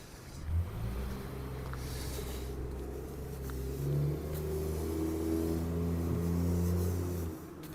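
A car passes along a downtown street in Regina, its engine rumbling and swelling as it approaches and goes by, a steady road roar lasting several seconds with a faint later swell.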